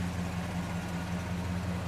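A 1969 Pontiac LeMans engine in great condition idles in drive, a steady, smooth low hum with no revving, close and alone.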